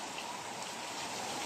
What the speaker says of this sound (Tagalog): Yan oh, lakas ng ulan.